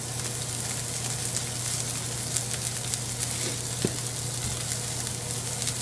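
A thick ribeye steak sears in a pan, giving a steady, close, continuous sizzle and crackle with faint occasional pops and no talking.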